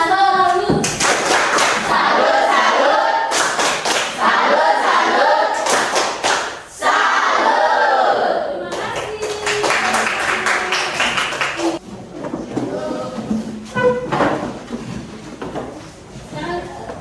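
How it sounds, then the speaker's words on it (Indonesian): A classroom group claps a rhythmic patterned cheer for group 1 in an Indonesian teacher training session, bursts of sharp synchronized claps and chanting voices, with talk and lighter scattered clapping later. "Tepuk salut dulu untuk kelompok 1"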